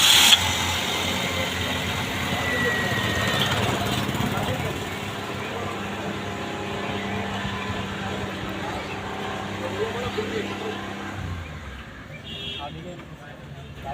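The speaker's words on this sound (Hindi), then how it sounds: "गाड़ी स्टार्ट करो।" A car engine cranks and settles into a steady mid-pitched idle, running continuously beneath nearby conversation, with the engine note dropping away toward the end as it is switched off.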